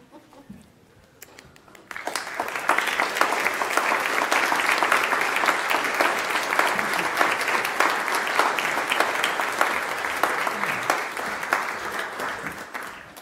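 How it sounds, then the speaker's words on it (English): A church congregation applauds graduates entering a Sunday worship service, sustained even clapping from a large crowd that starts abruptly after a quiet moment and continues steadily to the end. "We're going to clap for you early."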